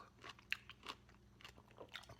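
Fermented vegetables are eaten with several close, sharp crunches and quieter chewing crackles, faint and irregular, over a low background hum.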